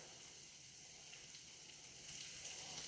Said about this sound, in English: And you can hear them kind of sizzling, starting to sizzle now.